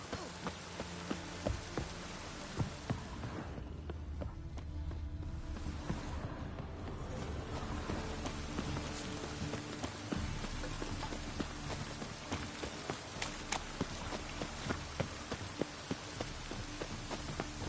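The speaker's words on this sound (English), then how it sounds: "Rain was coming." Steady rain in The Witcher 3 video game pours down as a continuous hiss with scattered drop ticks and occasional clopping hooves, fairly soft and unbroken throughout.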